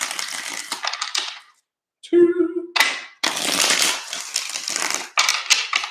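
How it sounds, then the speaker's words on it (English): Tarot cards are riffled and shuffled up close in several sharp, crackling bursts separated by brief gaps, while a voice briefly counts aloud between them. "3 shuffles here."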